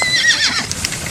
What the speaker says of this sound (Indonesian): Itu kawanan kudanya.